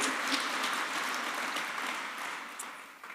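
An audience at an awards ceremony for statesmanship gives congressmen a round of applause, a dense, moderately distant clapping that slowly fades.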